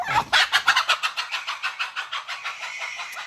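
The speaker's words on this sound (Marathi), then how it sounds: "कोंबडी आला" A rapid series of rhythmic clucks, loud and close, slowing and fading slightly as they continue, like a hen cackling.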